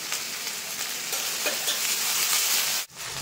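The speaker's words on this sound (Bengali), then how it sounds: "এবার দিয়ে দেবো আদা রসুন বাটা।" Ginger garlic paste frying with onion paste and spices in a pan, a steady, loud sizzle with faint stirring scrapes and a brief break near the end.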